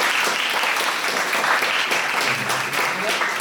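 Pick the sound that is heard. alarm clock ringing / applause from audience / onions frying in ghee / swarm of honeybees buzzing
applause from audience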